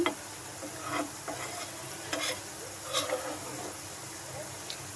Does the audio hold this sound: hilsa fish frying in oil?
yes